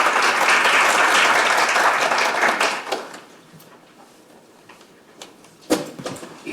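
Audience applause at a K-fashion globalization policy forum in the National Assembly: a loud, dense burst of clapping for about three seconds that fades to a few scattered claps.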